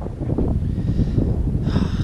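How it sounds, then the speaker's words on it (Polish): Strong, cold north wind buffets a cyclist on the Kazakh steppe, a continuous low rumbling roar across the microphone that swells and eases slightly without pause, with a faint hiss rising near the end. "Centralnie z północy wieje."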